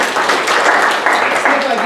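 A classroom of students clapping together for a classmate during a marketing lecture, a short dense burst of applause with murmuring voices mixed in.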